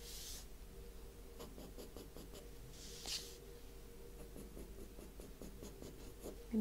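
Harder pencil drawing on paper during an art tutorial: soft, close scratching and shading strokes in a steady, quiet rhythm with occasional brief brushing sounds, no talking.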